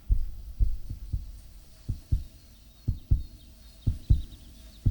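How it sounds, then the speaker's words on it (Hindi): Heartbeat sound effect, a deep, steady lub-dub thumping in paired pulses repeating roughly every second, loud and alone. "मुझे एक आवाज डिस्टर्ब कर रही है, वो है उसके दिल की धड़कनें"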